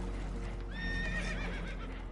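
Spooked horses whinnying in a video game aboard a damaged boat taking on water, a clear rising neigh over a steady low rumble, fairly close.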